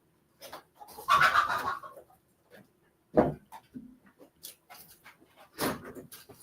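A rooster kept near a home office clucks and squawks in a few loud, close bursts separated by short pauses, with rustling and small noises in between.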